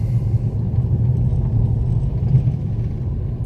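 Inexpensive Mercedes running after a transmission repair, a steady low engine and road rumble heard from inside the car, smooth and even without a clear revving rise.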